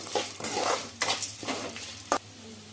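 Dried red chillies and tamarind frying in hot oil, with a spoon scraping and stirring against the pan in irregular bursts over a steady close sizzle.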